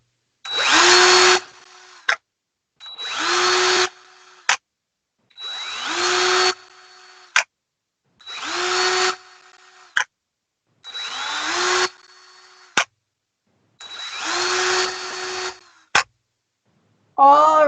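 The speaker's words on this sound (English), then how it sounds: "I'm gonna drill this like I did the bottom." Power drill bores a series of holes through a plastic worm-bin lid, six separate whining bursts of about a second each with brief clicks between, close and loud, ending in a short final spin.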